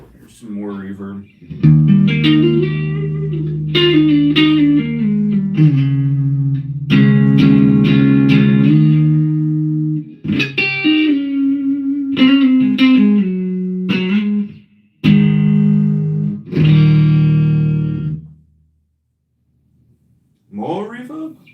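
A series of electric guitar chords and short phrases is played through an amp with spring reverb. The chords come in bursts with brief gaps, each ringing out with a wash of reverb, and ends after a pause with one more stroke.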